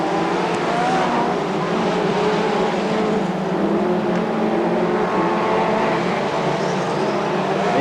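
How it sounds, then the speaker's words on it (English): Formula 2 racing cars at the Crewe circuit pulling away after the green flag, a loud, sustained engine roar with shifting pitch as several cars accelerate together, with no talk over it. "Green flag down and away go the Formula 2 cars again."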